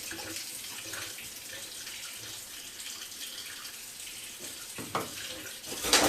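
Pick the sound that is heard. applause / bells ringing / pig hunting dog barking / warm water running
warm water running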